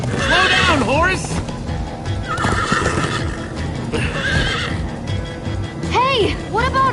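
Several loud horse whinnies from Minecraft: Story Mode ring out over galloping hooves, the neighs recurring near the start, middle and end, close and dominant.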